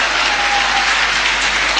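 Applause from an audience after a history professor's speech at an event in Patna, a dense, steady wash of clapping hands that stays loud and even throughout, with no voices over it.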